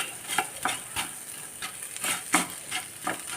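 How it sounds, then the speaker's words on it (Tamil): Salt and tamarind being sautéed dry in a pan for puliyodharai powder: soft, irregular scraping and stirring strokes, several per second, close and fairly quiet with a faint sizzle beneath. "உப்பும் போட்டு நல்லா வதக்கிடுவோம்."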